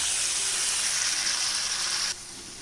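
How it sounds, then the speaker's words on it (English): Steady loud sizzling from a pan of onion masala with turmeric as boiled potatoes go in, continuous frying hiss that drops abruptly near the end. "Now we will be adding the boiled potatoes"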